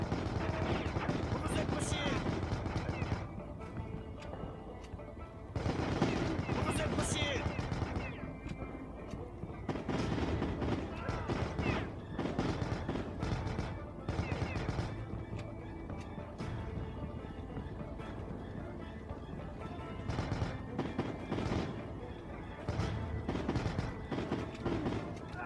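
Gunfire from the shooter game Heavy Fire: Shattered Spear comes in repeated bursts of rapid shots and booming impacts with mechanical clatter. The firing is loud and close, and someone talks over much of it.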